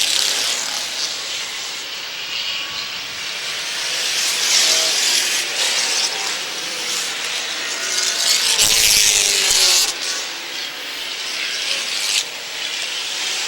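Stock cars running an end-of-season enduro at Airborne Speedway in Plattsburgh, NY: a continuous, hissing roar of many engines from a distance, swelling as a pack comes down the front stretch, with no one talking.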